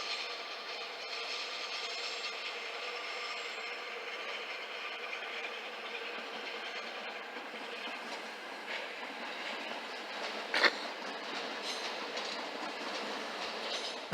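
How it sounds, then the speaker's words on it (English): A modern Hamburg S-Bahn class 490 electric train passes through Hamburg Hauptbahnhof, giving a steady rolling rumble with faint clickety-clack of wheels on rail joints and one brief sharp clank near the end, heard at moderate distance. "That over there is a new S-Bahn train."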